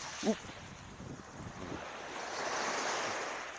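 Sea waves washing onto the shore at Bang Saen beach in Chonburi, Thailand, a soft continuous surf rush that swells gradually louder, with wind noise and a brief voice near the start.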